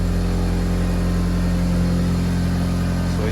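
A 1998 Eagle Talon engine runs loud and close with a fault in its idle, holding a steady rumbling drone throughout and no speech.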